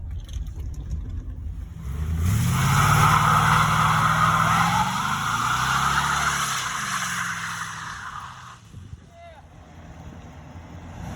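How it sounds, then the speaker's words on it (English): Engine and tire roar of a 1988 GMC/Chevrolet pickup truck, rising loud and close for several seconds with a pitch shift, then cutting off abruptly; no one speaks. "I am driving the brand new pickup truck, the 1988"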